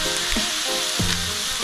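Food fries in hot oil, a loud, steady close-up sizzle with faint clinks of stirring over it and no talk.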